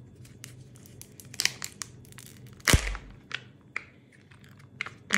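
Plastic packaging of a Kinder Joy egg being torn open by hand, close crinkling and crackling with sharp tearing pops and one loud snap midway.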